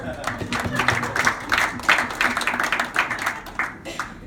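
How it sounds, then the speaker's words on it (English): A group claps for itself during a Bible story session about blind Bartimaeus, the uneven clapping rising and falling in bursts with some voices mixed in. "Can we clap for ourselves, please?"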